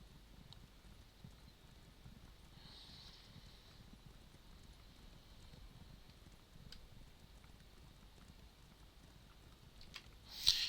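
Horse hooves clip-clop in a video game as the horse runs, a faint, steady rhythm of light beats over quiet ambience, ending with a sharper burst.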